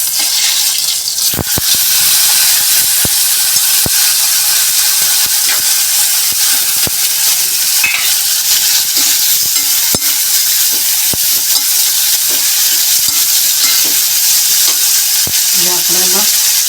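Cluster beans dropped into hot oil with asafoetida, green chillies and ginger, giving a loud, steady sizzle and frying hiss with occasional stirring clinks throughout, no voices.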